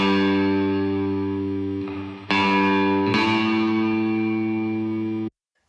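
Sustained baritone guitar chords recorded through an amp with amp reverb, ringing with heavy echo and a bright strum attack at each chord change, then cut off abruptly near the end.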